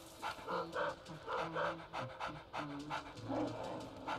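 A puppy panting in the Luigi's Mansion 3DS video game, with a quick, rhythmic run of short breathy pants that stays fairly faint and steady throughout, alone without talk.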